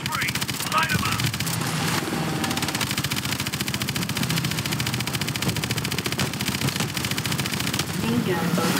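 Main gun firing in the video game Call of Duty Advanced Warfare: rapid, continuous heavy automatic fire in a dense, steady rattle, loud and sustained throughout, with voices speaking over the shooting.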